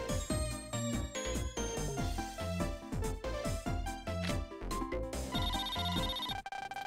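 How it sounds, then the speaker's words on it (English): A phone rings in Mega Man Star Force 3 as a melodic electronic ringtone that repeats its bright chiming pattern over several seconds, clear and loud with no talk. "Ah, a phone call."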